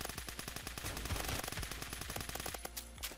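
Rapid automatic gunfire from the Roblox shooter Phantom Forces, dense bursts of close shots cracking continuously for about three seconds with no talking.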